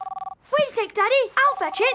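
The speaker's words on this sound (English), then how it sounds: "Oh, that's my phone." A cartoon phone rings in a quick burst of rapid, even electronic trills, then stops as a voice starts talking.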